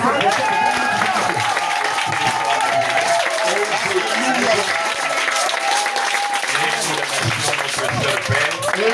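A church congregation applauds during a French-language service, a steady, dense wash of clapping that lasts the whole stretch without breaks. It sounds fairly loud and full, with cheering voices and the room's murmur mixed in.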